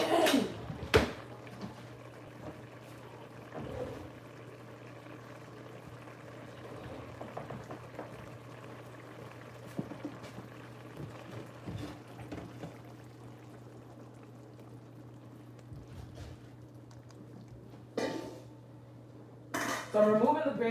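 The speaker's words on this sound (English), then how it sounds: "So I'm removing the gravy from the pot." Gravy being scooped out of a pot of Jamaican brown stew fish, with metal utensils clinking and scraping against the pot over a low steady hum, and a few louder clanks near the end.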